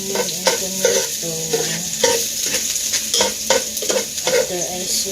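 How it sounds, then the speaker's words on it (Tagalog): Meat sautés with garlic, onion and tomato in a hot pan, a loud continuous sizzle broken by frequent scraping and clanking strokes of a spatula as the food is stirred. "I'm gonna saute the meat with the garlic, onion and tomato"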